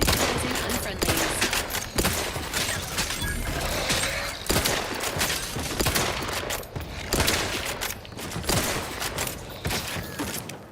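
Loud, sustained rapid-fire gunfire in the video game Outer Worlds 2, dense automatic bursts and overlapping shots rattling almost continuously with no real pauses.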